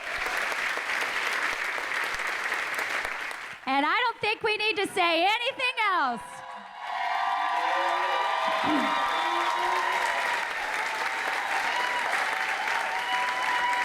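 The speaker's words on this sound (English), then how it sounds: "So give them a round of applause as well." Audience applause at a 2019 symposium, steady and full, briefly dropping away midway while someone speaks a short line before the clapping swells back and carries on to the end.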